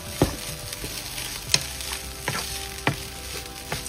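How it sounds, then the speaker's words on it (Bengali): Chire poha, flattened rice, frying in a pan, a continuous soft sizzle with a few sharp scraping stir clicks at irregular intervals, close and clear with no voices. "ভালো করে ফ্রাই করছি"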